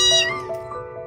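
Trapped stray kittens meow for help from under a truck wheel, giving a few close, loud, high cries in quick succession with no voices over them.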